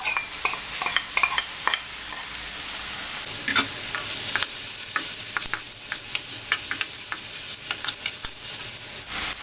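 Peppers frying in a pan while being stirred, a continuous sizzle that jumps louder as the peppers go in, with repeated clicks and scrapes of a utensil throughout.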